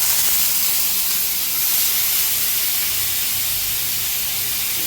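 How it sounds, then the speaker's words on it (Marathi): Washed tomatoes are dropped into a hot pan for a tomato bhaji, giving a loud, close, broad steamy hiss and sizzle that holds steady for several seconds with no talking. "आता आपण धुतलेले टोमॅटो त्यात सोडून घेऊया"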